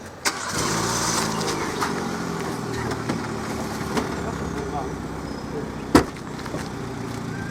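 A car engine turning over and catching, then a steady mid-pitched running hum with a sharp knock near the end, heard close and fairly loud.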